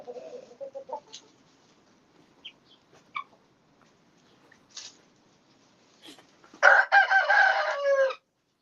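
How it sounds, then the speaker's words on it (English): Chickens and roosters in a sawmill shed, with scattered soft clucks and calls through the first seconds, then a loud, close rooster crow near the end. "As soon as I shut off this mill, chickens are everywhere."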